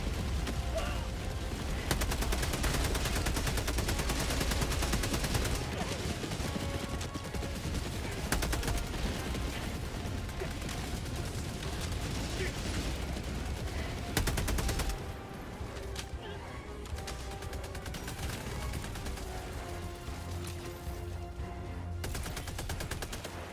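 Sentry turret gunfire in Helldivers II rattles in dense, continuous bursts for most of the stretch, loud and close, easing slightly in the final third as other game noise carries on.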